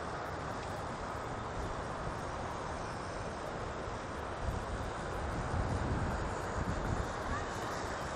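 Strong wind buffets the microphone outdoors while a GoolRC T32 folding drone flies high overhead, a continuous broadband rushing roar that swells slightly toward the end.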